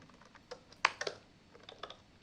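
Computer keyboard keys are tapped in a quick, irregular burst while typing in Microsoft Word, close and crisp with no voices.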